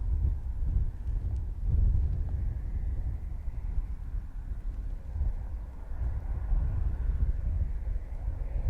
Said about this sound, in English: It's a little bit breezy today.